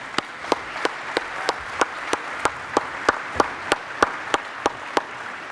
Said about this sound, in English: please join me in giving a round of applause and thanks for our panelists